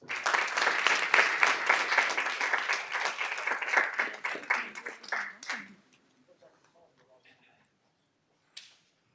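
Audience at a school board of education meeting breaks into clapping, a full burst of applause for several seconds that tapers off into a few scattered claps, then near silence apart from a faint later sound.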